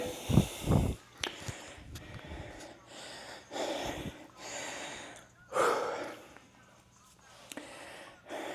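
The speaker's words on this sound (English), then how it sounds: "Whew, I'm out of breath. I'm out of shape." Heavy breathing after a workout: loud, close gasps and puffing exhales at first, then a slower run of audible breaths, snorts and sighs as the breathing settles.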